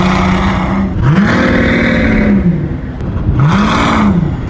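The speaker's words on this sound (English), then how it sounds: "You'll be able to hear this car from across the city, as it has a V12 twin-turbocharged engine with 700 horsepower." A V12 twin-turbocharged, 700-horsepower car engine revs hard in two rising and falling surges, loud and close, with no talk over it.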